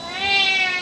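A cat on a balcony lets out a single close, clear, drawn-out meow lasting under a second, its tone rising slightly and then holding steady.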